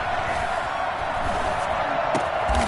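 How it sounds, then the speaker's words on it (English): Football stadium crowd building to a big third down, a dense sustained roar of cheering with scattered shouts, loud and continuous with no clear talk over it. "the crowd getting into it as we come up on a big 3rd down"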